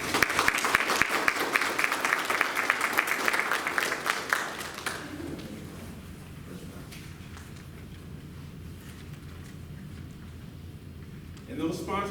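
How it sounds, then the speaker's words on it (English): Applause at a veterans' graduation ceremony, a loud burst of many hands clapping that fades after about five seconds into quieter room sound. "so please give them a round of applause"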